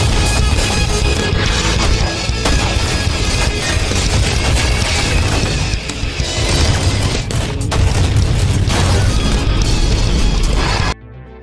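Gunfire in a fierce action-film shootout, a dense, loud barrage of booming shots and crashing impacts that goes on almost without pause, then cuts off abruptly at the end.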